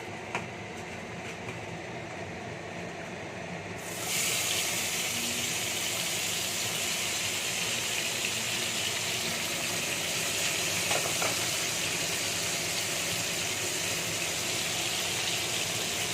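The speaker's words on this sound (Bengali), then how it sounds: "এবার আমি চিমনিটা অন করে দিয়ে আমি ভাজাটা বসিয়ে দিচ্ছি" A steady mechanical whoosh of a kitchen chimney exhaust fan switches on and runs continuously, a broad airy hum filling the background without talking.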